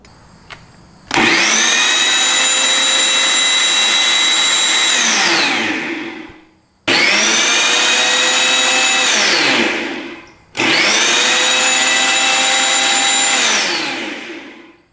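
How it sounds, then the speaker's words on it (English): Sun Joe 16-inch 13.5 amp electric tiller running, its motor whining up to full speed three times in separate bursts, each held for several seconds before spinning down, loud and close with no talking. "And that's going to engage the tiller."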